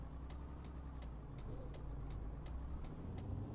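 Volkswagen Constellation truck being parked with its air brake engaged: a steady idling engine rumble with a short hiss of air midway, and faint regular clicks or beeps running throughout.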